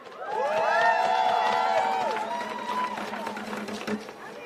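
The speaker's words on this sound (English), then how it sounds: "one more big round of applause for Imani" A rally crowd for student debt cancellation cheers with loud whoops and shouted voices over scattered clapping, swelling early and then easing into a murmuring roar.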